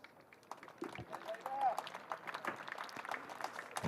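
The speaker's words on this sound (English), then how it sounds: "And here is the applause for Haider Ali's half century." Cricket crowd at a county match between Derbyshire and Worcestershire applauding a batsman's half century, a faint, scattered patter of claps from a sparse ground heard under a commentator's ongoing talk.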